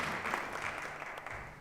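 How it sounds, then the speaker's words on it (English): Business conference audience applauding a speaker, a brief, fairly quiet patter of clapping from a crowd, fading slightly. "A round of applause."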